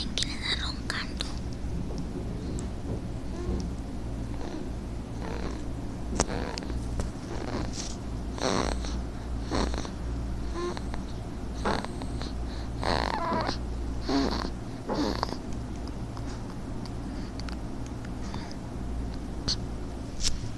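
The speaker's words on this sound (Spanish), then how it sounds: "Adivinen quién está roncando." A person snores up close in a steady, repeating rhythm of raspy breaths, with soft whispering alongside.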